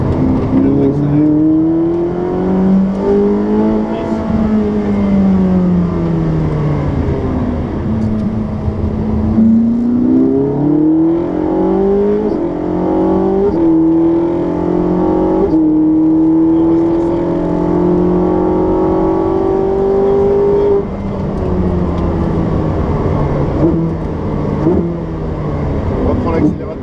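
Ferrari 458 Special accelerating on a driving course, its engine loud and near, pitch climbing and dropping through repeated revs and gear changes, with an instructor speaking over it.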